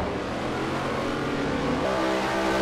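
V8 Supercars racing in Forza Motorsport 4, with several engines droning loudly together in a steady buzzing roar that shifts in pitch as the cars pass.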